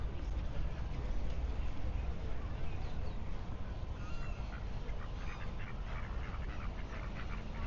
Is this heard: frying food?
no